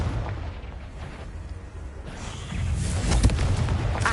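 A Confringo fire spell explodes in the Hogwarts video game, a rumbling burst of booms over a low background drone, swelling louder toward the end with a sharp blast near the close.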